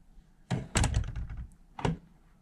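An attic door fitted with a refurbished mortise lock swings shut and latches, giving a heavy thunk followed by clattering rattles and a second sharp knock, close and alone without talk.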